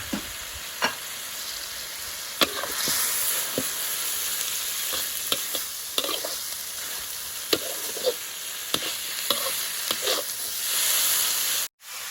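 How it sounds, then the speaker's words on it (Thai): Shallots frying in coconut cream with salted snakehead fish flesh give a constant close sizzle and hiss, broken by scattered sharp scraping stirs and clicks of the utensil against the pan. "เจียว หอมกับหัวกะทิ ให้แตกมันนะยาย จากนั้นใส่ปลาเค็ม"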